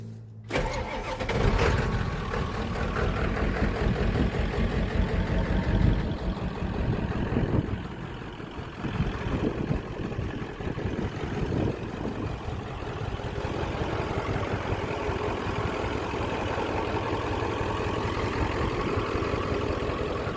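A 1974 Ford F100 fitted with a 7.3 Powerstroke diesel cranks briefly, catches and settles into a loud, steady, rumbling idle that holds unbroken to the end.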